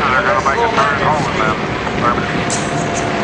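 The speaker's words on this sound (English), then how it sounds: "T-28s with a rumbling right engine." T-28 propeller aircraft passing over an airshow, a loud continuous engine drone with people talking over it throughout.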